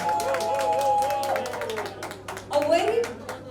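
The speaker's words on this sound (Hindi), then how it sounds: "एक बार जोरदार तालियां हो जाए." An audience at the launch event for an OTT streaming platform claps in scattered bursts while an announcer speaks over a microphone.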